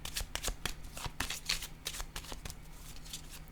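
Tarot cards are riffled and shuffled close by in a rapid, continuous series of crisp flutters and slaps, with no talking.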